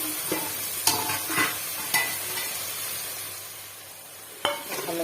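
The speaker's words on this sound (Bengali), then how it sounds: "ভালো করে মশলাটা ভেজে নেবো তেল ফেলে আসবে" Spice paste frying in hot oil for a pond fish curry, a steady close sizzle with a few sharp stirring scrapes and clinks over it, no voices.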